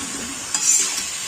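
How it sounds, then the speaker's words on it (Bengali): About 600 g of chicken with a large chopped tomato and spices sizzles steadily in a pan while being stirred, with a brief, louder scraping burst in the middle; up close, with no voices. "এবার আগে চিকেনটা একটু ভালো করে ভেজে নেব, মানে কষিয়ে নেব মশলার সঙ্গে"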